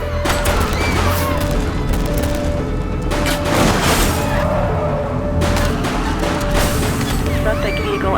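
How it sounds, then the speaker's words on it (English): Gunfire in The Precinct police game, several bursts of shots and crashes rising over a dense, steady bed of game noise and music. "She's shooting!"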